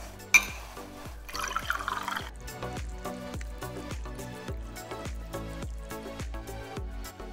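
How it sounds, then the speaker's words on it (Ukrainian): Beet kvass poured from a glass into a pot of nearly finished Ukrainian borscht, a brief splashing liquid pour near the start followed by steady rhythmic background music, no talking. "я налью в нього склянку бурякового квасу, який надасть нам солодкий смак"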